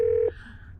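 A single short car phone dialing tone, a clear steady electronic beep lasting about a third of a second, then cutting off into faint background hum.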